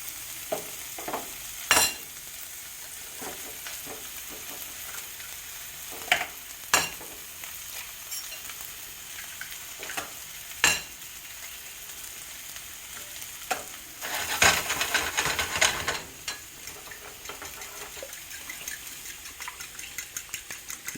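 Great Value Vermont maple sausage fries in a pan with a continuous close sizzle, punctuated by scattered sharp pops and spatters and a louder burst of crackling partway through, with no talking.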